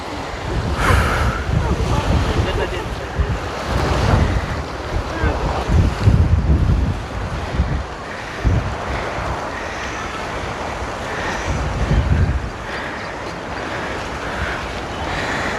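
Rushing water at Srisailam reservoir, a continuous loud roar with surging swells mixed with heavy wind buffeting the microphone, heard outdoors from close by.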